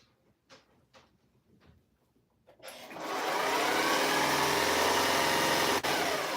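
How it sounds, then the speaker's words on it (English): A portable sewing machine starts up after a few light clicks and then stitches in a steady, continuous motorized whir, close and fairly loud, with no talking. "I'm in love with sewing on Josefina because I can take her wherever I want to go"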